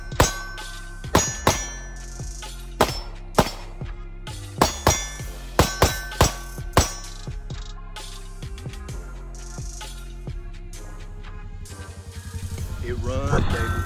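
A Taurus GX4 subcompact pistol fires a string of about a dozen sharp, fairly quick shots over steady background music, with talk at the end.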